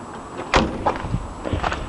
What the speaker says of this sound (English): I'll pop the bonnet.